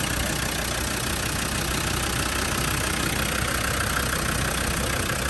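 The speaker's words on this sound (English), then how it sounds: "But healthy sounding TD5 engine." A Land Rover Defender 90 TD5 diesel engine idles steadily and continuously, a dense even rumble with no speech over it.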